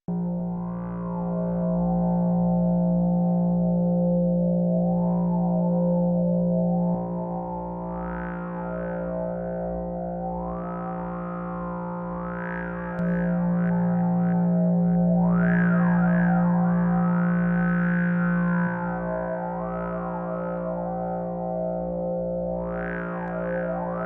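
A droning, buzzy synthesized didgeridoo tone made in Phase Plant, with a steady low fundamental and shifting, warbling overtones, sustained for over twenty seconds.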